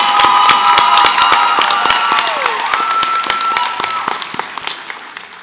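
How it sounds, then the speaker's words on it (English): A high school senior prizegiving crowd applauds and cheers a scholarship recipient, loud continuous clapping with shouts layered on top, gradually tapering off. "Give her another big round of applause"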